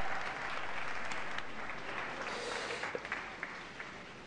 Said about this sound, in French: Applaudissez bien fort, s'il vous plaît.